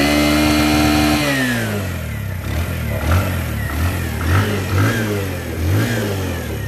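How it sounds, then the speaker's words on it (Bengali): A Bajaj CT 100 Platina motorcycle engine, freshly serviced with a full engine fitting, idles close by and is revved in a series of throttle blips, loud and steady with no talk. "বাইকের ইঞ্জিনের সাউন্ড শুনুন"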